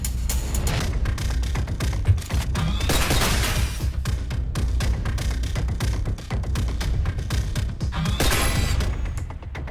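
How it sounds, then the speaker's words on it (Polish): Rapid, dense gunfire from the top-down shooter game Synthetik, with repeated shots and impacts packed tightly together at a steady loud level for the whole stretch, with no voice over it. "to jeszcze jeden strzał na powitanie"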